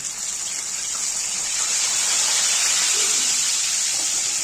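Fish pieces slipped into hot oil in a kadai, giving a loud, steady hissing sizzle that swells and holds for several seconds.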